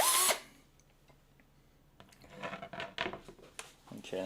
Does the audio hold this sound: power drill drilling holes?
yes